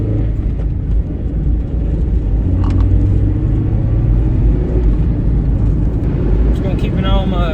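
A 2003 Toyota Matrix on a road test after a radiator repair, with steady loud cabin road rumble and engine drone throughout and a voice talking over it.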